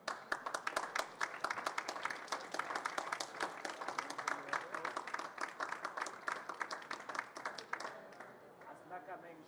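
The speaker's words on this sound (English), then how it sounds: "Big applause for this" A conference audience at a biodiversity and climate event gives sustained applause, with dense clapping from many hands that tapers off near the end.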